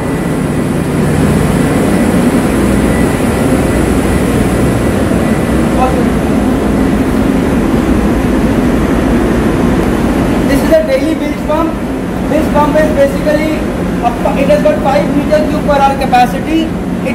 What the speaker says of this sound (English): It's a reciprocating pump. When this motor runs, this shaft has got a reciprocating system fitted over here, and pumping take place.